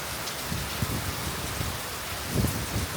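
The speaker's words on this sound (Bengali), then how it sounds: "বৃষ্টির সাথে জোরো বাতাস।" Heavy rain driven by strong wind on a wet morning, a dense steady hiss of drops striking surfaces with occasional louder splashes and gusts, heard alone.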